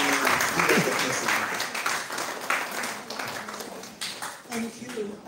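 A seminar-room audience applauds to welcome a guest speaker: dense, steady clapping that fills the room for several seconds and tapers slightly toward the end.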